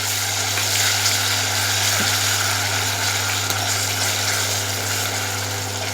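Ground spice paste with ginger paste sautés in a pan for an aloo dum, a steady, close, even sizzle with low hum beneath, continuous throughout without talk.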